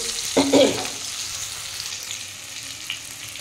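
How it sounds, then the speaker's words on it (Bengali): Cumin powder, chili powder and turmeric frying in a pan with potato and tomato for a Bengali vegetarian cabbage curry, giving a steady soft sizzle with a brief louder stir or clatter near the start. "এটা ভালো করে একটু কষিয়ে নেব"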